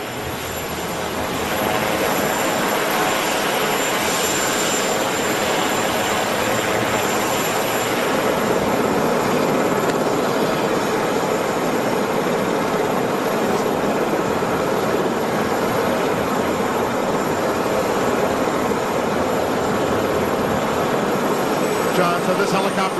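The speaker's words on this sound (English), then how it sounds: "John, so this helicopter will take off for Joint Base Andrews, about a 10-minute ride, and then former President Obama" A presidential helicopter takes off, roaring loudly and continuously, a broad whooshing rotor and engine noise that builds in the first seconds and holds steady.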